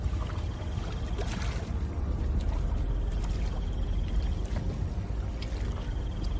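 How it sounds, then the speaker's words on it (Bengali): Steady splashing and swishing of water as oars row a small boat, with a constant low rumble of wind or motion throughout. "নৌকার দাঁড় টানতে শুরু করে দেয়"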